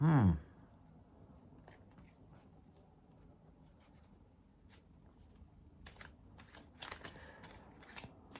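Tarot cards are shuffled quietly during a private reading: soft, faint papery riffles and flicks after a brief loud sound at the start, with no talk over them.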